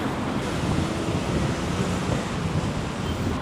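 Ocean waves and wind at a shore, a loud continuous roar of surf mixed with gusty wind buffeting the microphone, steady throughout with no voices.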